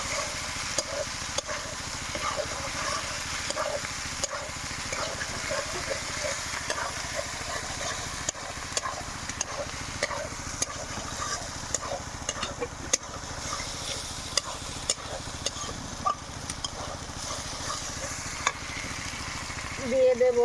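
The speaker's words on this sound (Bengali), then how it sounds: "মশলাটা অল্প একটু ভেজে নেব।" Spice paste fries in a pan for a fish curry with eggplant, giving a steady, close sizzle and crackle with occasional stirring scrapes throughout.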